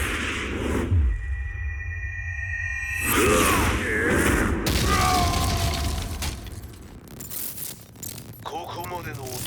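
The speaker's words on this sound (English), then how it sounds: "Explosion confirmed at the Mishima dojo." An explosion at the Mishima dojo in the video game Tekken 7 bursts out amid layered cinematic effects. Booming, shattering, ringing tones and mechanical sweeps shift over several seconds, and scattered dialogue runs under them.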